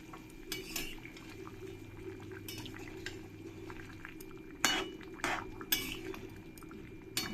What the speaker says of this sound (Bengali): এই মাছগুলো সব দিয়ে দেব মাছগুলো দিয়ে ঝোলের সঙ্গে একবার মিশিয়ে নেবো